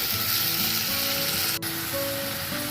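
Ginger garlic paste sizzles steadily in hot oil in a pan, a loud continuous frying hiss under tonal background music, with one brief sharp click partway through.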